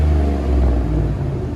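A 2011 Chevy Tahoe 5.3L V8 with straight-pipe exhaust rumbles loudly and close by, a deep steady roar with the revs holding high for a moment before easing off slightly.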